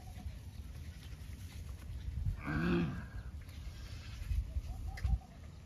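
A cow calls once on a village farm at milking time, a short low moo rising over steady outdoor background noise, with a few faint knocks and rustles around it.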